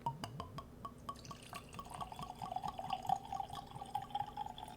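Kentucky blended whiskey pours into a glass, a steady liquid stream with trickling, dripping tones and a few glassy clinks, close and fairly quiet throughout.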